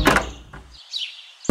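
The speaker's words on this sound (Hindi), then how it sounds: "इतने में अचानक मेरे कमरे का दरवाजा खुला।" A bedroom door swings open abruptly as an audio drama effect, a quick bump and creak followed by a short quiet stretch, a faint high squeak, then another solid thump at the end.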